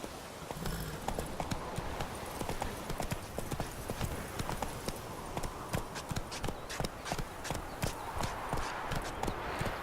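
Roach, a horse in The Witcher 3 video game, gallops with a steady, dense run of close, loud hoofbeats that quicken and sharpen over the stretch, with no talk over them.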